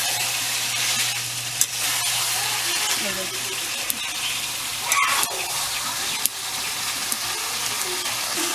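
Steady sizzle of meat frying on a wood-fired clay stove, a continuous close crackle with occasional stirring clicks and scrapes, no talking.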